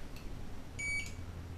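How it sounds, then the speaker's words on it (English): A barcode scanner gives one short, clear electronic beep as it reads a barcode on a Sleeping Beauty case, faint and brief against a quiet room hum. "very gratifying little beep there."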